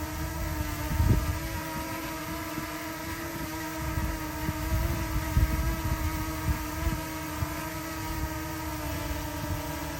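A DJI Mini 2 drone fitted with Master Airscrew Stealth propellers, heard from directly below, gives a steady, fairly close layered whine and hum that holds throughout, with a few brief low bumps and no talking.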